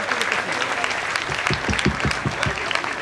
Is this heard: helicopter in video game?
no